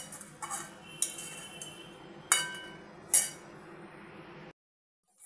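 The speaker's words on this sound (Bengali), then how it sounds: "ভালো করে নেড়ে চেড়ে এইবার আমি ঢাকা দিয়ে দেবো।" Metal clinks and taps sound from a pot of fenugreek greens being stirred and covered, several sharp separate knocks of utensil and lid over a quiet background, ending in silence.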